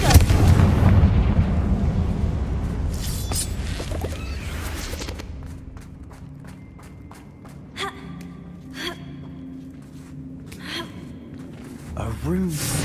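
A Confringo blasting spell erupts in Hogwarts Legacy, a loud burst with gasps and rumble dominating the opening seconds, then fading into quieter cavern ambience with sharp scattered hits and effects.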